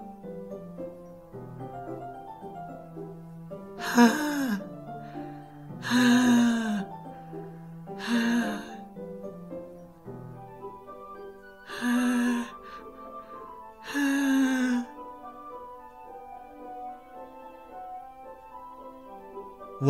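Heavy, ragged breathing from an unseen figure in the horror visual novel Doki Doki Literature Club Plus, five drawn-out breaths spaced a couple of seconds apart over quiet, sustained background music.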